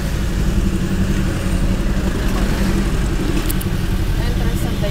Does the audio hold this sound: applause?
no